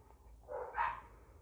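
A dog barks a couple of times outdoors, somewhere beyond a quiet room, the yelps faint and brief with low background hum and no talking over them.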